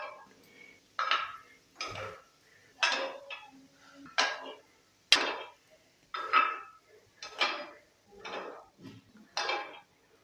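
Cooked appe being lifted from an appe pan into a serving dish, about a dozen separate metallic clinks and scrapes of utensil on cookware at a slow, irregular pace, close and fairly quiet.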